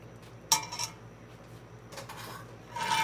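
Metal utensils scrape and clink against a pan in a few separate bursts as instant ramen noodles are stir-fried, with a steady low hum underneath and no talking.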